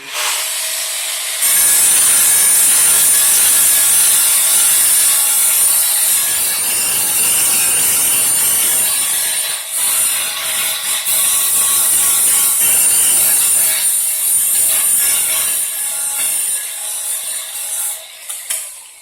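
A ceramic tile edge is sanded into a bullnose with 100-grit abrasive, producing a loud, continuous raspy grinding that swells and dips with each stroke and runs nearly the whole time with no voices.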